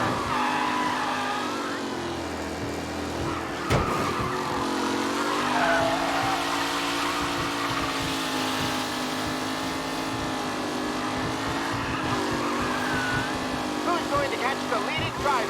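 Race cars in the video game Mafia: Definitive Edition, engines droning and rising in pitch close by, with tire squeals and skids, a sharp knock early on, and a voice talking over the racing.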